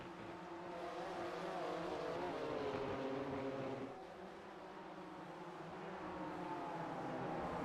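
A pack of six or seven race cars in iRacing drones through the Lesmo corners at Monza, a dense layered engine howl held at steady volume, dipping slightly midway.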